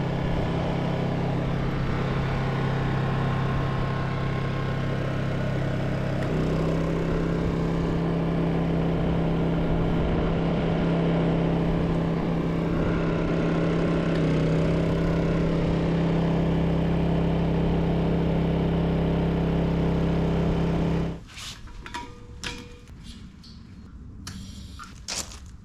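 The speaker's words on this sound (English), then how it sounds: "Generator running on propane." A Honda EU2200i generator runs on propane fed from an RV quick connect, giving a steady, even mechanical drone that holds for about twenty seconds before cutting out, leaving a few scattered clicks and knocks.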